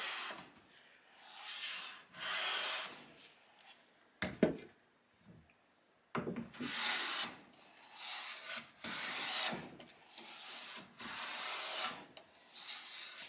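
A Lie Nielsen No 4 hand plane takes a series of rasping shavings off wood, roughly eight separate strokes with short pauses between them, close and quiet, with no talking.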